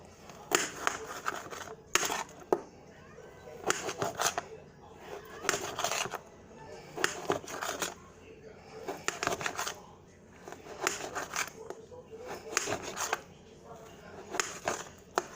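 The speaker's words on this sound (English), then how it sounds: "Now for your Chinese sausage, you're gonna cut these into cubes." A knife cuts Chinese sausage into cubes on a board, with quick rhythmic bursts of close chopping repeated steadily through the clip.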